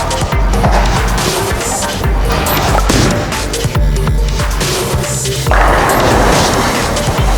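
A Jackal Ambush bowling ball rolls down a lane with a steady, loud rumble and clattering, the roar continuing throughout with a brighter swell toward the end.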